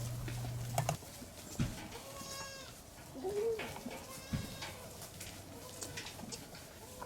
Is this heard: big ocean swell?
no